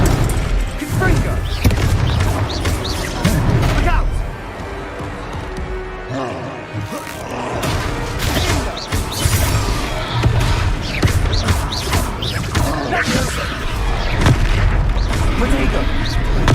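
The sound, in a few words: Confringo fire spell explosions in Hogwarts Legacy video game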